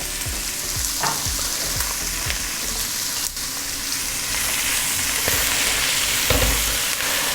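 Sliced onion frying in hot oil with salt, giving a steady loud hiss and crackle, while a spoon stirs and knocks against the pan now and then, all close up with no talking.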